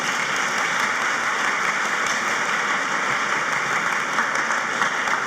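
Sustained applause from a graduation ceremony audience honoring faculty and staff at University High, a steady dense wash of clapping with no talk over it.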